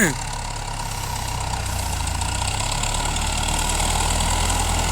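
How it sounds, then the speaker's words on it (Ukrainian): Tractor or heavy farm vehicle engine running at low revs in reduced eighth gear while hauling during hay season on a village road, a steady low droning hum throughout, close and continuous with no talk. "Це восьма передача понижена. На маленьких оборотах і шпаримо."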